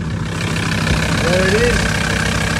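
A VW Golf TDI fitted with a 250 bhp kit and GT32D turbo idles steadily at close range, a continuous low diesel rumble throughout, with someone talking over it.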